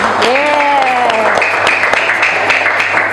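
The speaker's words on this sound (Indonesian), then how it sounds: "Oke, tepuk tangan." Students in a classroom clap together during a lesson, a dense run of close claps mixed with children's excited cheering voices.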